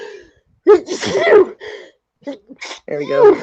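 A person lets out one sharp, close sneeze, with people talking just before and after.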